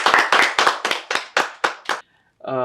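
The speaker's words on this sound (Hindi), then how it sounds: "तालियां हो जाए एक बार" An audience claps after a request for applause during a music talk event, with about eight loud, distinct bursts of clapping in quick succession, then a short pause and a brief tonal sound at the end.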